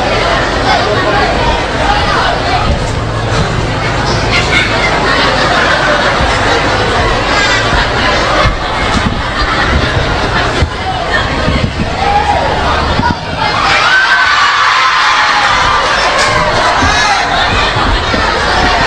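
A crowd of children and adults at a Batak comedy show cheers and applauds for a singer as he arrives. The noise is a dense, steady wall of clapping, shouting and chatter, near and loud, running the whole time.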